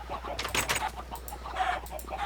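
Chickens cluck in short, busy bursts in a video game, several birds at once, with a low steady hum underneath.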